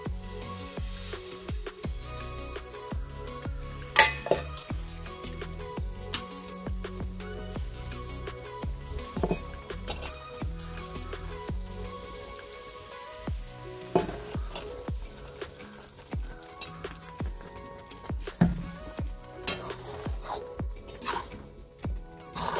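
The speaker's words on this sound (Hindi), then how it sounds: "अब इसमें आटा भूनेंगे। अब हम लोग डाल रहे हैं घी" Flour is roasted in ghee in a pan for Sothaura laddoo, giving a soft, steady sizzle with frequent scraping and stirring clicks throughout, no voices.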